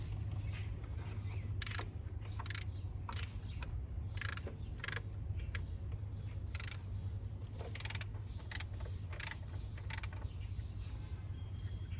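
A ratchet loosens a bolt beneath the throttle body of a Ford Duratec engine, giving repeated short clicking strokes in irregular bursts over a steady low hum, close by with no talk.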